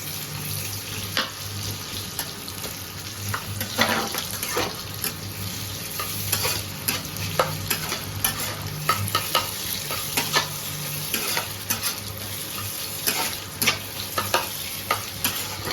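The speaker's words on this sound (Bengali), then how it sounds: "পেঁয়াজ ফ্রাই হচ্ছে।" Two chopped onions sizzle steadily in a pan for a tomato dal, lightly frying with a constant close hiss and occasional scrapes and clinks of stirring; no voices.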